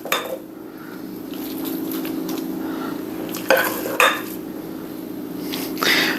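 Chicken casserole mixture scraped into a baking pan: steady kitchen clatter with a few sharp spoon-on-dish clinks and knocks, close and moderately loud over a low background hum, no talking.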